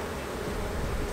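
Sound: honey bees buzzing around an open hive

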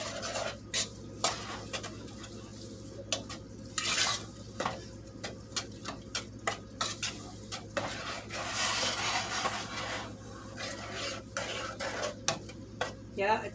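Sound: stirring beef gravy cooking in a pan

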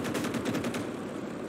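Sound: gunfire in video game Call to Arms Gates of Hell

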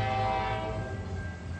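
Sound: train horn sounding at passing train

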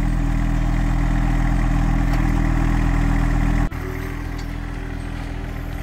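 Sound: tractor engine running while hauling compost

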